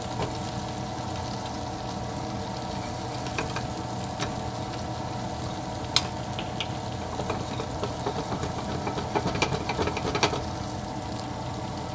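Onions and carrots frying in a pan for braised lamb shanks, giving a steady close sizzle with occasional light scrapes and clicks of stirring, and no voices.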